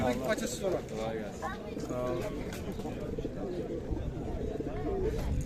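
Pigeons coo repeatedly and close by at the Edirnekapı bird market in Istanbul, layered over a busy crowd of people talking in the background.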